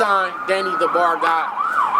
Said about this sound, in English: That's the ambulance on their way.